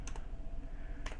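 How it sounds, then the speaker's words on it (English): A few quick keystrokes on a computer keyboard, a pair of light clicks at the start and another near the end, faint and close over a low background hum. "We just now type in /BS."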